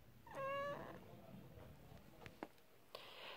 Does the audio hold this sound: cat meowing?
yes